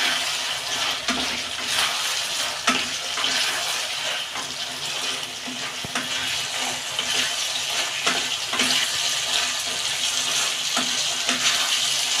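Water poured into a hot pan of chilli chicken sets off a loud, continuous hissing and bubbling rush that stays strong and even throughout, with no voices.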